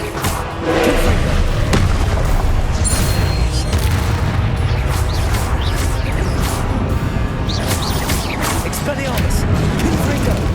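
Blasting spell explosions from the Hogwarts Legacy video game boom and crash in rapid succession amid dense combat noise, with voices shouting over the chaotic barrage.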